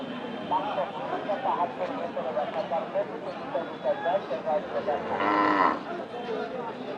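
A Gir cow lets out one loud, drawn-out moo close by at a cattle market, while people talk nearby throughout.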